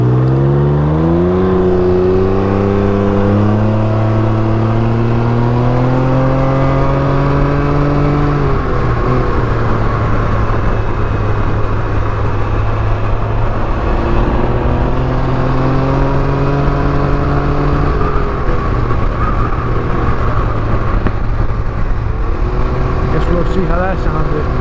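A Can-Am Ryker with a Silber turbo exhaust revs loudly and close. The pitch rises and falls in repeated sweeps, dropping back to a steady drone between the revs over a constant loud engine bed.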